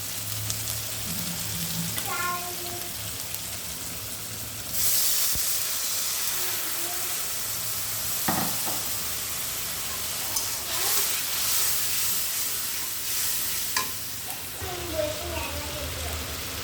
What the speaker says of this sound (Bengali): মশলাগুলোতে হালকা একটু পানি দিয়ে আমি ভালোভাবে ঢেকে দিয়ে কষিয়ে নেব।